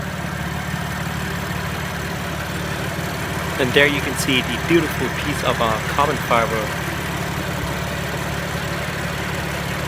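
A 2017 BMW M3 or M4 engine idles with a steady, low, even drone throughout, while someone talks over it.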